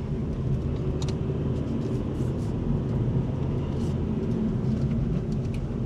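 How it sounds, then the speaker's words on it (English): A 2018 Opel Adam Glam drives up a mountain road, heard from inside as a steady, low engine and road rumble with constant tire noise and a few faint higher ticks, no voices. "this is a little mountainous road up here above Micha's, where I'm going, where I'm driving at the moment"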